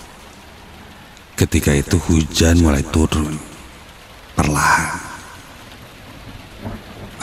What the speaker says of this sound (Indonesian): Ketika itu hujan mulai turun.